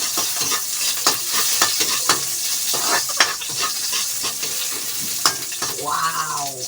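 Onions frying in a pan sizzle steadily up close while a utensil stirs them in quick irregular scrapes and taps, and a brief voice comes in near the end.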